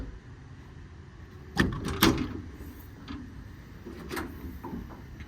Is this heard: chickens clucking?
no